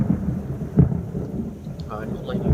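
Rain and thunder ambience sets a stormy mountain scene, with steady rainfall and low rumbling thunder throughout. A louder roll swells briefly near the start, and a faint voice surfaces in the background.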